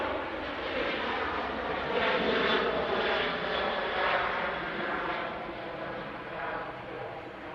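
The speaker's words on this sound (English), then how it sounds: "What's about to touch down? It is the RyanAir from Derry." Ryanair airliner arriving from Derry and touching down at Manchester Airport, a loud broad jet roar that swells and then slowly fades, with a person talking over it.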